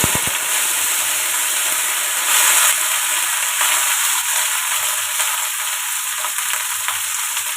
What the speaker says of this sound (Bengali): তেল গরম হয়ে গেছে, দিয়ে দিলাম শুকনো লঙ্কা আর একটু কালো জিরে